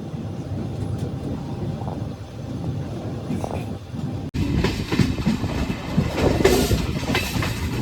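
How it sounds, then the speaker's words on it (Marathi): A train runs steadily on the tracks, heard from aboard, a continuous close rumble and rattle that grows rougher and louder partway through. "ट्रेनने रफ्तार पाहिलेली आहे"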